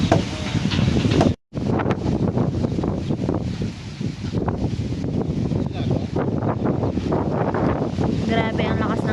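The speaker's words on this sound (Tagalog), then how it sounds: "Grabe ang lakas ng hangin." Very strong wind roars across a microphone aboard a boat, a dense, gusting rush that barely lets up, with muffled talk partly buried beneath it.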